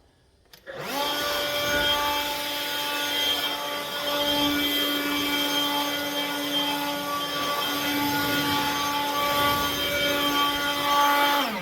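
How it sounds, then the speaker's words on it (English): A Ryobi leaf blower blowing out water and dirt starts abruptly with a loud, steady motorized roar and drones on continuously with a high whine, up close and without pause. "I'm gonna use my leaf blower to get the rest of this water and dirt out"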